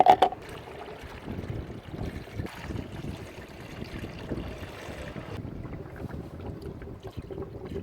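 Orange coolant pours through a filter funnel into a car's expansion tank, a steady close trickle and gurgle of liquid running for several seconds after a brief clatter at the start.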